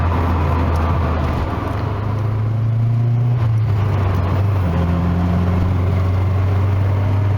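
An old Nissan Sunny Pulsar engine runs steadily with a low, even drone, close by and continuous, with a slight shift in pitch partway through.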